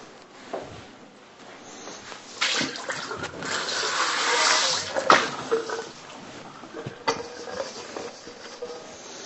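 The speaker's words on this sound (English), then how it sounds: "Is there an empty stainless steel bowl there? It's got water in it. I'll pour that out." Water pours and splashes out of a stainless steel bowl in a kitchen, a close, uneven gush with patters and spatters that swells midway and then trails off into scattered drips.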